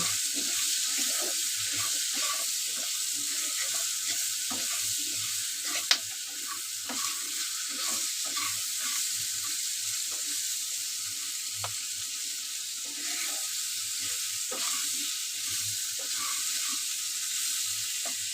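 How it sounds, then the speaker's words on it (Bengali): Spices fry with salt and turmeric in a pan, giving a continuous bright sizzle with a faint stir now and then and a single sharp tap early on. No one speaks. "স্বাদ মতো লবণ দিয়ে দেবো এক চামচ হলুদ গুঁড়ো দিয়ে দেবো দিয়ে আমি ভালো করে ভেজে নেব"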